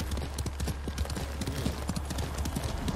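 Horse hooves clip-clop steadily at a brisk, even gait while riding through the countryside in the video game Ghost of Tsushima, close and clear with no talking.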